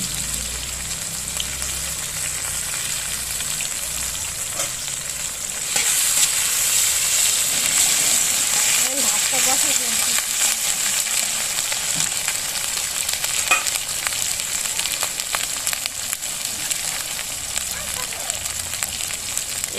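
Ginger paste with salt, turmeric and sugar fries in a pan with a constant hissing sizzle. The sizzle swells louder about a third of the way in and continues steadily, with faint stirring scrapes.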